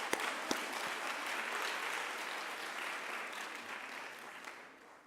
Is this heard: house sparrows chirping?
no